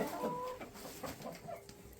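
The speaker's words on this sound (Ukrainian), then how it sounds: "Цей півень мені дуже подобається, великий, такий масивний." Crested hens and roosters in a small backyard flock cluck and murmur in short, uneven bursts nearby, with one large, heavy rooster among them and quiet ambient noise between calls.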